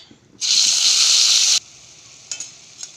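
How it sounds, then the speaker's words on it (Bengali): Cumin seeds, dried red chillies and bay leaves hit hot oil for a Bengali duck egg and potato curry, a sudden loud sizzling burst for about a second, then a quieter crackle with a couple of small pops. "জিরে শুকনো লঙ্কা তেজপাতা দিয়ে দেবো ফোড়নে"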